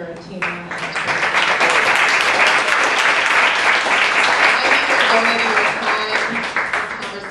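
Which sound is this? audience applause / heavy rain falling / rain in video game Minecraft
audience applause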